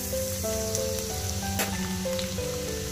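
Chopped garlic frying in hot oil in a pan, a steady crackling sizzle under a continuous background hum with a faint tonal whine.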